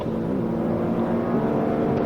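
A Lexus UX 250h F Sport in sport mode with active sound on produces a steady, loud engine drone with a deep, throaty hum, holding a constant low rumble without clear revving.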